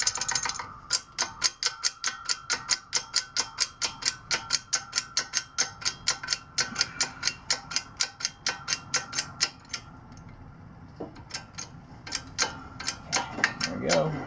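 Socket wrench ratcheting while installing a camshaft bearing on a Kawasaki KLX140 big bore engine rebuild, a close, rhythmic series of clicking pawl strokes that slows and thins out toward the end.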